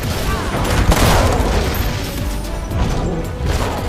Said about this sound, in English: Upon detection, the Gunslinger concentrates fire on the location for an effective coup de grace.